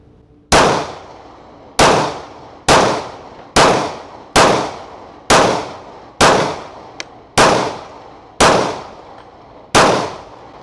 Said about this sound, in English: We'll get out here and shoot this thing a little bit for you so you can see how it runs.